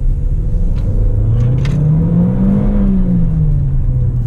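Jaecoo 7 SUV in Sport mode accelerating hard, its engine note climbing steadily into a loud, smooth rising drone and then easing back, heard from inside the cabin with constant road rumble and no talking.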